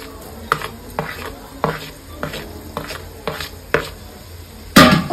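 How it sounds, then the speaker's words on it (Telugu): Onions and green chilies fry in an electric rice cooker while a spoon scrapes and stirs, giving regular clinking strokes about every half second over a low sizzle and ending in a louder scrape. "చూడండి, ఆనియన్స్ ఫ్రై అవుతున్నాయి."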